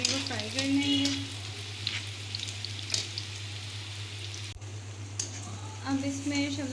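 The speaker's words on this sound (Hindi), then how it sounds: "4-5 मिनट के लिए गाजर को फ्राई कर लेंगे" Carrots fry in a pan for egg fried rice, giving a steady close sizzle with a constant low hum underneath and a few brief stirring scrapes.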